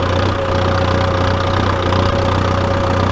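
A GPS-guided tractor engine runs steadily at a low, even rumble, loud and close, with a constant drone and no pauses.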